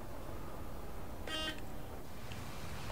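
A single short horn beep from a bus in the Bus Simulator 18 video game sounds over steady in-game engine and ambient noise during a rainy drive.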